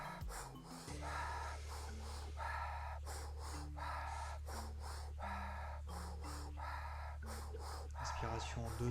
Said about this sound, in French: la respiration par la bouche